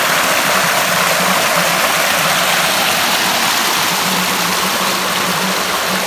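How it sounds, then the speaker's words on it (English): The Meyah waterfall in Paramin, Trinidad runs high, its water roaring as a loud, constant rushing wash that fills the whole scene without any break. "Every time I have come here, the waterfall has never been this high."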